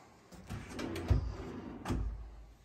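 A soft-close drawer in a finished master closet slides shut, with a muted rolling glide and a cushioned settle. A second soft thud follows near the end in an otherwise quiet room.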